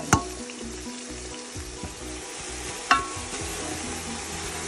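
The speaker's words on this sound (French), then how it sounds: "on va ajouter les oignons qu'on aura coupés en lamelles" Sliced onions fry in a pan with a steady sizzling hiss, punctuated by two sharp clinks of a utensil against metal.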